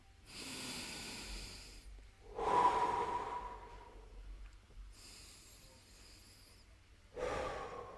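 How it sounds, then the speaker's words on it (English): A man draws slow, deep breaths close to the microphone, long inhales and exhales with audible air noise in a steady rhythm and no talk. "I'm going to take a deep breath right now"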